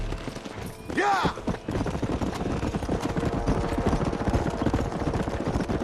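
Horse hooves galloping in the Red Dead Redemption video game, a rapid rhythmic clatter that runs steadily after a short whoosh near the start, mixed with game sound and a voice.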